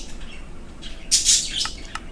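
Birds chirping and squawking loudly in a room, a burst of bright calls mid-way followed by a few shorter chirps, no talking.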